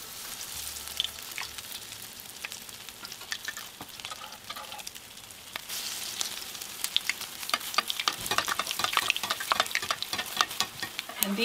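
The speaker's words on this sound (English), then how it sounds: "we're ready to start frying our little cake" Chile relleno cheese and poblano patties sizzle and crackle steadily in hot oil in a pan, a dense continuous frying sound with sharper pops building toward the end.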